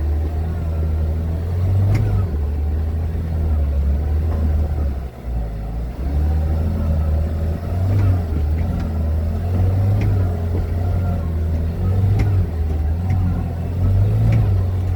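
Kawasaki Ridge UTV crawling off-road in low range with four-wheel drive and the rear differential locked: a steady, loud mid-pitched engine drone with small surges in throttle runs continuously throughout, with no talking.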